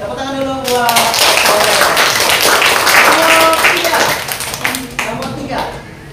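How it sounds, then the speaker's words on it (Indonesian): Students clap their hands together in a classroom during a lesson, a burst of sharp claps that swells and then thins out, with voices talking over it. "Tepuk tangan dulu buat kalian."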